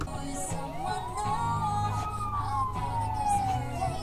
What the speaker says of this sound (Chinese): 你有看到这边一直有警车跟消防车冲过去吗？